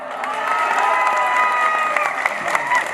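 Thin, scattered clapping from an audience at a poetry recital, with some crowd murmur, steady but subdued throughout, lacking any strong burst.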